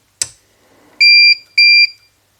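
A sharp click, then two loud electronic beeps of equal length with a short gap between from a Novopal 1000 under repair, clean and close with no talking.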